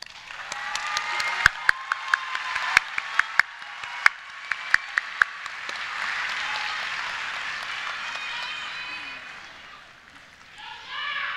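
A large crowd applauds and cheers at a college graduation ceremony, steady clapping with some sharp nearby claps standing out, swelling in the middle and then tapering off.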